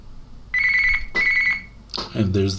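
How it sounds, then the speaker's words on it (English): Two close electronic telephone rings sound for an identity verification call, each one a bright trilling burst with a short gap between them, followed by a person talking. "And there's the call now."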